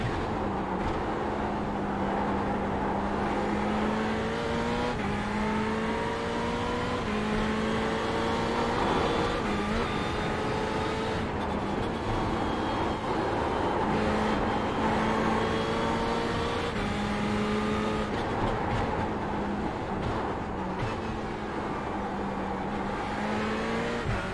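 Ferrari 488 GT3 race car engine in iRacing, a steady onboard drone with rising rev sweeps and quick gear shifts, loud and continuous throughout with no talk.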